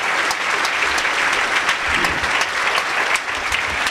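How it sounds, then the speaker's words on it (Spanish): Loud, sustained applause from a Wikimania 2015 conference audience fills the whole stretch, dense clapping without a break. "Denme un aplauso."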